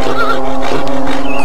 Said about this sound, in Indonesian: Kuda putih itu meringkik,